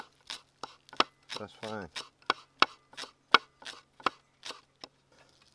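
Spring onions being chopped on a small chopping board at a camp, about a dozen crisp knife strikes in an uneven rhythm, close and clear, with a brief spoken remark partway through.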